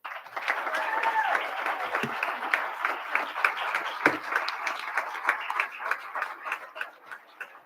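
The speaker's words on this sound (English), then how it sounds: "please join me in giving her a warm applause as we thank her for being the Educator of the Month" A board of education public session audience gives a warm, sustained round of applause for an Educator of the Month, the crowded clapping gradually thinning into scattered individual claps, with a few voices murmuring underneath.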